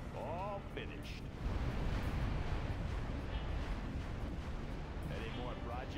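Particle cannon superweapon firing in Command & Conquer Generals, a sustained loud roaring blast filling most of the clip, with a short synthetic voice announcement at the start and end.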